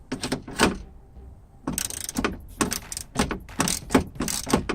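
Fasteners being worked loose from a Honda door panel during a broken window rattle repair, heard as a burst of clicks, then a pause, then a run of sharp plastic-and-metal clicks and ratcheting snaps, close and fairly loud.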